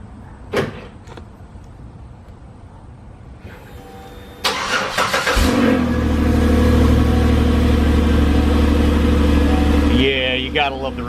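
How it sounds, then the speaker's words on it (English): A car engine cold-starting by remote start: a click and brief cranking, then the engine catches with a loud, steady idle that settles and holds, close by. "let's go ahead and do cold start"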